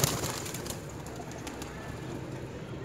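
Pigeons in a loft give soft cooing and a burst of flapping wings at the start over a steady hiss of background noise, faint and close.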